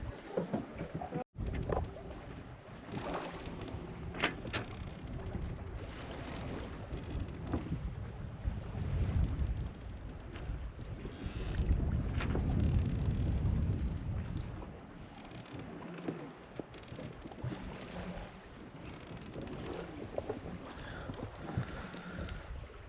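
Sailboat moving under genoa alone in very light wind of about five to six knots, on an ocean crossing from the Canary Islands to Cape Verde: soft continuous water swish along the hull with gusty wind buffeting the microphone and occasional creaks.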